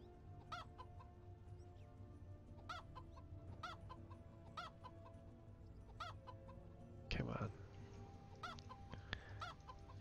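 Game chickens in WarCraft 3 cluck repeatedly in short bursts over a steady, busy background, with a brief louder rustle partway through; no one speaks.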